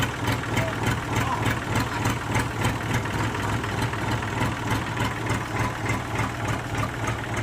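A used tractor's diesel engine idles steadily at close range, a continuous low rumbling throb with a regular pulsing beat and no breaks, with no talking.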